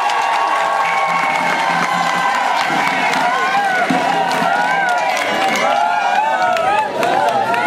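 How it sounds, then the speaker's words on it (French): A crowded church congregation at an anniversary service claps loudly while many voices cheer and shout together, a constant, close, energetic roar with no break. "Est-ce qu'on peut applaudir pour cette parole?"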